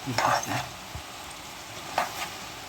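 Dried fish frying in a pan of serm curry, a soft steady sizzle with a few short stirring scrapes near the start and again around the middle, moderately quiet and close.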